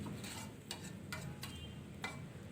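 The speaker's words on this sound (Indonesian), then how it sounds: "Saya aduk-aduk kembali." Sweet and sour tofu sauce simmers thick in a pan while a utensil stirs it, giving a low bubbling hiss with a few sharp scraping taps spaced through the stirring, fairly faint and with no talk.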